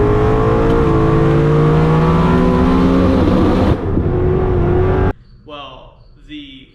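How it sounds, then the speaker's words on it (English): A turbo Coyote Mustang race car engine roars loud and steady during a pass on an airstrip, then stumbles and breaks up, cutting to a quieter stretch with a voice talking over it. "she makes another pass and the car looks good, sounds good, and then it breaks up real bad"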